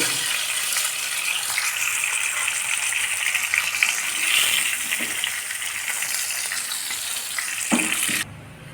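Pomfret fish fries in hot oil, a loud, dense, continuous sizzle with faint stirring clinks, then cuts off abruptly near the end.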